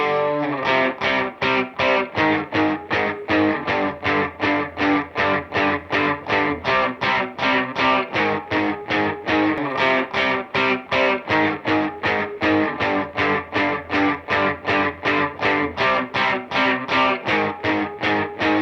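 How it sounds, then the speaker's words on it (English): Heavy distorted electric guitars chug in a steady, driving rhythm of repeated palm-muted chords, loud and dense throughout with no voices. "Let's turn the tape off and just take a listen to these guitars."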